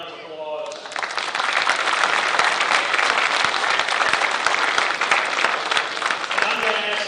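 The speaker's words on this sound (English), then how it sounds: "I think they deserve a round of applause." An audience at a construction trades competition bursts into steady, full applause that carries on for several seconds after a brief voice at the start.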